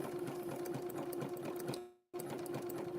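A household sewing machine runs steadily after cleaning, a close, continuous whirring hum with fast stitching clatter that cuts out briefly before starting again.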